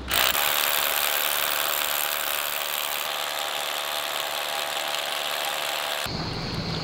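A power drill bores a bolt hole into rock while a new climbing route is being set, giving a steady close whine with grinding for about six seconds before it cuts off.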